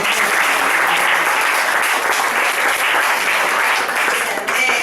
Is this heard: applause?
yes